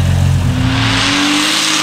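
Loud 4-liter car engine breathing through a muffler and resonator, a deep throaty rumble close by that settles from a rougher growl into a steadier drone with a rising tone.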